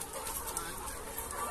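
Chickens on a poultry farm cluck continuously and close by, a dense flock chatter with no clear pauses.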